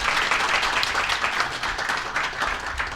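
Loud, sustained audience applause at an energy security and natural gas forum, dense and close with individual claps flickering through the steady roar.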